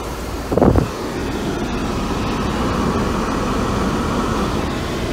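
A Mercedes W124 engine cranks briefly and catches, then settles into a steady, close idle hum that runs evenly to the end with no talk.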